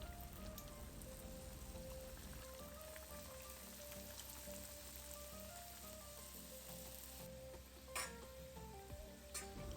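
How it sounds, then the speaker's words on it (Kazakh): Pirozhki made from thin yeast-free dough with a generous filling fry in hot oil, giving a steady, dense sizzle and crackle that runs throughout with no talking. "Енді осыларды жақсылап тұрып қызған майға қуырып аламыз."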